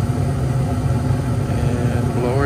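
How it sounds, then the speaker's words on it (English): York gas furnace with its blower running, a steady low hum and rumble with a faint vibrating texture, close and continuous with no pauses. "And blower's on."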